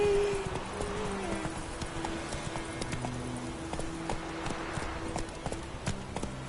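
Hooves of the horse Roach galloping in The Witcher 3, a steady rapid clip-clop under game ambience and a brief voice.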